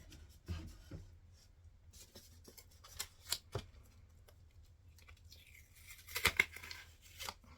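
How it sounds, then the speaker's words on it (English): Vinyl letter stickers peeled off a painted wooden door hanger, giving a series of short, close tearing and crackling bursts with quiet gaps between them and a denser rip near the end, with no talking. "I'm going to peel these off."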